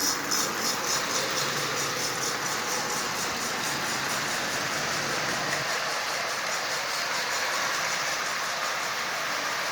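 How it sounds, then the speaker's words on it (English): A Marx 1666 toy smoker steam locomotive runs on its track with a steady, continuous mechanical whir and hum, fairly close and without talk. "First time I've run that locomotive in months."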